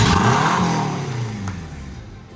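A Honda Civic engine, newly installed in a £500 car, revs loudly and then gradually settles. The pitch falls as the revs drop, and no voices are heard over it.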